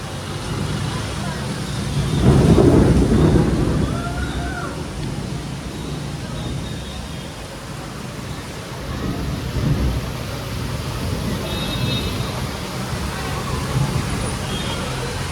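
Thunder rumbles during a violent rainstorm in Surat, a deep swelling roll peaking early and fading, with rain hissing steadily and distant traffic beneath throughout.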